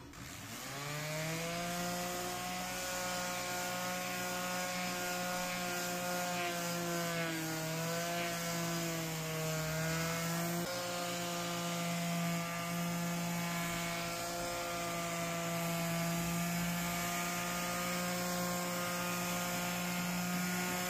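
Body filler on a car panel being sanded down: a continuous loud whirring, grinding drone that wavers slightly in pitch for about twenty seconds, with no voices.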